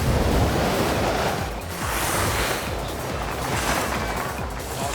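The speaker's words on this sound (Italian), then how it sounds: "Tanto vento c'è purtroppo." Strong wind rushes across a ski slope in Alpine Ski Racing 2007. The roar is continuous and broadband, rising and falling in gusts like surf, and nobody speaks.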